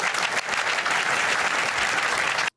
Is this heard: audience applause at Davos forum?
yes